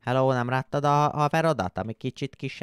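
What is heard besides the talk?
No distinct noise like a dog, phone or traffic.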